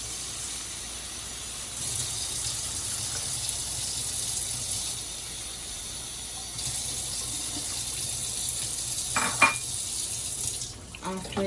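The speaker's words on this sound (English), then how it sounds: "And I'm going to pour a little water into it." Water poured into a pot holding frying carrot and pumpkin chunks, a steady hissing pour and sizzle lasting several seconds, then brief clinks of cookware near the end.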